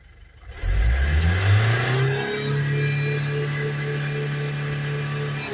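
A Vauxhall Vivaro van's diesel engine, suspected of a blocked particulate filter, revs up from idle, rising quickly to a loud, steady, close drone that holds for several seconds.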